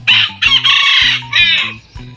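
A pet Ayam Kate, a tiny Indonesian bantam chicken, crows loudly and close by in a few short, broken, raspy bursts.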